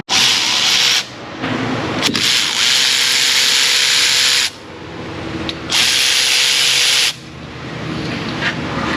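A pneumatic impact tool loosening worn brake bolts in an auto repair shop, firing in loud sustained bursts of about four and three seconds, with brief pauses of lower hiss between them; no talking.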